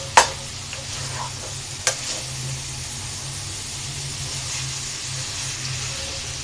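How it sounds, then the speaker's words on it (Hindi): Chicken and capsicum fry in a pan while being stirred, with two sharp utensil clanks near the start over a low, steady sizzle that continues evenly to the end. "बस अब हम इसे नहीं डांपना, इसी तरह ही चलाते जाएंगे और इसकी बुनाई करते जाएंगे"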